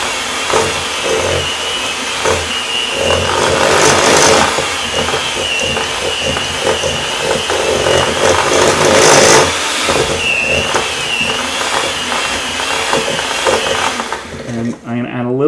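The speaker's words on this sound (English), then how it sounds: "I'm going to add a little bit more milk and just mix it up again" Gluten-free sugar cookie batter is mixed after extra milk is added: a loud, steady mechanical whirring that runs continuously for about fifteen seconds, then cuts off near the end.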